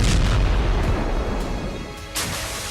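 Anti-ship missile explosions in a Hezbollah demonstration: a few deep, heavy booms followed by a low rumbling decay, with no talking.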